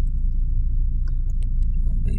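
Steady low car engine rumble in slow traffic on the Skyway near Makati, a continuous droning hum inside the vehicle with faint small clicks and rattles over it, no voices.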